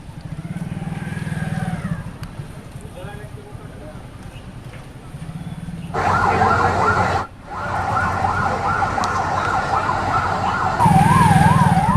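A fire engine siren wails in a rising and falling pattern at a chemical company fire in the Medchal industrial area. It sounds fairly near and comes in during the second half, with someone talking over street noise and engines.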